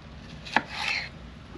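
A single crisp knife chop through a bell pepper on a cutting board, followed by a soft slicing scrape, close up and alone.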